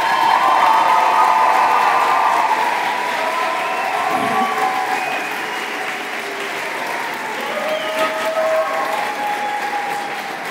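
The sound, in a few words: audience applause and cheering at a debate tournament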